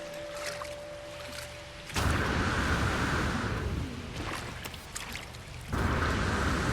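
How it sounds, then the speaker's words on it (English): A starship in the No Man's Sky video game gives off a loud, rushing spray of water-like hiss that cuts in sharply, holds steady for several seconds, dips, then surges again, alone over quieter ambient hum. "See, it sounds like it shoots out water or something."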